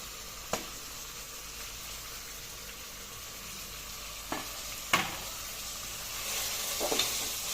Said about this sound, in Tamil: இப்போ தக்காளியும் நல்லா வதங்கணும் பாருங்க